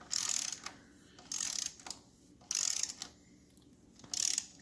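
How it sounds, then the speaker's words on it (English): Ratchet torquing the front motor mount on a 1974 Norton Commando, four distinct bursts of close, crisp clicking separated by short pauses, alone without talk. "we got to torque the front motor mount here to the motor"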